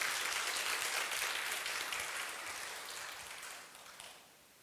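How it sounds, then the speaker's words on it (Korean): A church congregation applauds during a Korean Sunday worship service: dense, steady clapping that fills the room, then gradually tapers and fades toward the end. "박수 한번 쳐요."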